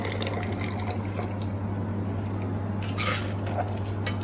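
A drink strained from a cocktail shaker into a highball glass while a bartender makes a Passion Bloody cocktail: a steady liquid pour and trickle over a constant low hum, with a brighter splash near the end.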